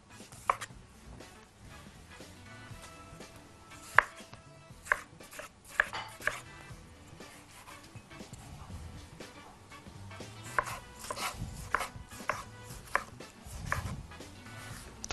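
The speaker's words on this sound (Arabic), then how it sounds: "طماطم مكعبات صغيرة" A knife chops tomatoes into small cubes on a board for a chicken kofta maqluba side salad, with a run of crisp, irregular taps and a few sharper knocks, close and fairly quiet, without talk.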